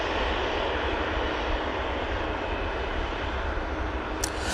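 Steady, loud roar of a KLM airliner's engines at Manchester Airport, a broad continuous rumble holding evenly throughout with no voices over it.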